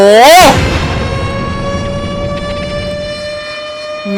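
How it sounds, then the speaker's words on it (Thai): A loud, eerie warning siren in the horror game Troll Face wails with a rising, bending tone at the start, then holds as a steady layered drone that slowly fades. "เสียงเตือนภัยที่มันเป็นอะไรที่ขนลุกจริงครับทุกคนครับ"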